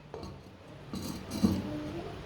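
A lid set onto a clay cooking pot of boiling water holding meat, giving a soft muffled clunk with a brief scrape, close and faint against a quiet kitchen background.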